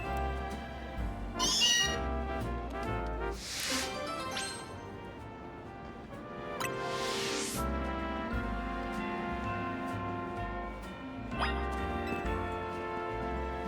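Meowth cries from the Pokemon Legends Z-A video game, several short cat-like meows rising over a steady bed of game music and effects, repeating a few times through the stretch.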